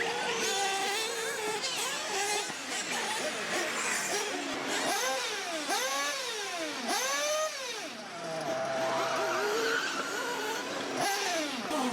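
Off-road race cars on practice runs at Loosenuts Raceway, engines revving up and down in repeated sweeping passes, loud and continuous with tire skids, as one car after another accelerates and brakes through the track.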